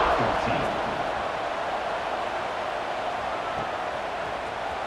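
Stadium crowd at a college football game in the video game College Football 26, LSU Tigers against Notre Dame, a dense steady roar of fans, loud and constant with no clear voices.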